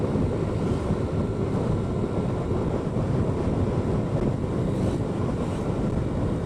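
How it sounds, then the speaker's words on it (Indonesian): Strong crosswind buffeting the microphone while riding along an open mountain road with open ground on both sides, a loud, steady rushing roar that lasts throughout with no talk. "jadi angin dari samping lumayan kenceng teman-teman"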